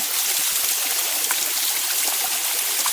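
A small waterfall spills into a stream, making a steady, close, full rushing splash with constant gurgling texture and no voices.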